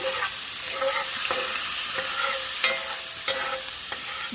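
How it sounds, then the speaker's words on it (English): Butter browning in a hot frying pan, with a steady close sizzle and a few sharp clacks of a utensil against the pan, no voices. "Browning the butter."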